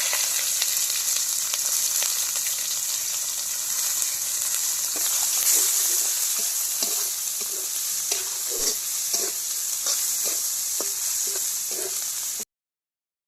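Onion sizzles in mustard oil with cardamom, cinnamon and bay leaf, a steady close frying hiss, while a spoon stirs the pan and knocks against it in a string of scrapes and taps, with no talk.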